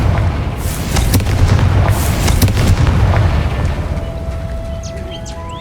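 A Confringo fire-blast spell from Hogwarts Legacy goes off as a series of loud, booming explosive bursts over a heavy low rumble, with sharp cracks in the first few seconds before settling into a steady roar.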